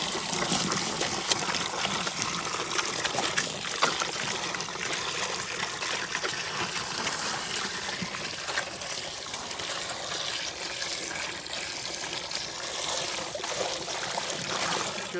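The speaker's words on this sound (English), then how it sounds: "I'll go ahead and get this filled up for them." Water pouring and trickling into an animal trough being filled, a steady splashing hiss that carries on for the whole stretch at moderate level, with no voices.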